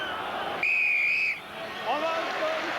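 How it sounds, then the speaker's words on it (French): A referee's whistle blows one long clear blast ending the first half of a French championship rugby match between Perpignan and Stade Français, over crowd noise, followed by fainter shorter whistle tones. "Et Monsieur Djouj qui en profite pour siffler la fin de cette première période"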